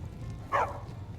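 Single short dog bark from a companion dog in Skyrim, one clear mid-distance bark over quiet game ambience.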